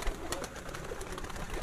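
Pigeons at a rooftop loft in Sialkot give soft, low cooing murmurs, close and fairly quiet against a light background hiss.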